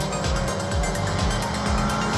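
Race cars roar down the main straight at a 2019 KZN road racing round, engines loud and close with repeated pitch sweeps as cars pass and shift, no voices.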